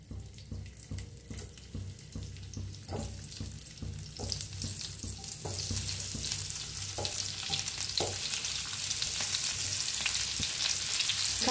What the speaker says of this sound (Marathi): आता तेल गरम झाले. कारले सोडून घेऊया तेलात.